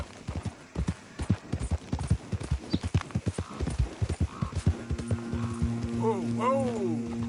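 A horse gallops in Red Dead Redemption 2, its rapid rhythmic hoofbeats loud and close, then slows toward the end with a whinny as a voice speaks briefly over it.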